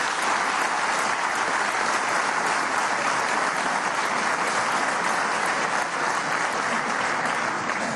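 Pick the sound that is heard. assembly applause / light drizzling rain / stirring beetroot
assembly applause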